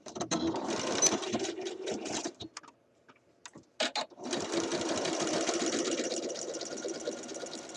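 A home sewing machine stitches a shirt dress cuff in rapid whirring bursts, pauses briefly with faint clicks and fabric handling, then runs again in a long steady stretch, close and fairly quiet.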